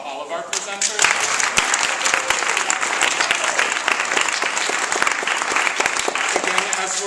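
Presenters at a school innovation challenge event receive sustained applause from the audience, a thick, even roar of many clapping hands running for about seven seconds with voices faintly underneath.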